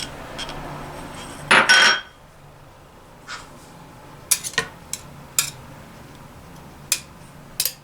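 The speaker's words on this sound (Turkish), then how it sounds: "Malzememi karıştırıyorum" Garlic and spices being stirred into a chicken skewer marinade in a bowl, giving sporadic light clinks and taps of a utensil against the dish, with a brief louder clatter early on and no talking.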